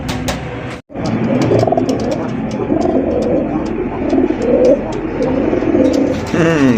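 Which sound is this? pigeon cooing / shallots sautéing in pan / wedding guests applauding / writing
pigeon cooing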